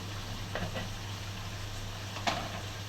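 Boiled chickpea water poured into a hot pan, sizzling softly and steadily, with a couple of brief splashy bursts and one sharper spatter near the end, over a constant low hum.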